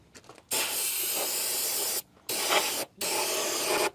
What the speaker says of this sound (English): I'm just going to spray everything down.